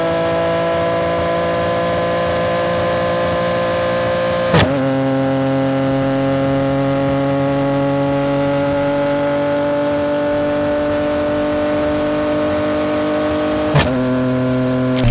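A 2025 Yamaha R9 motorcycle with a Dominator GP3 full-system exhaust and ECU flash holds a steady high-rpm drone. Two sharp quick-shifter gear changes cut through it, and the pitch steps down after each one. No voices are heard.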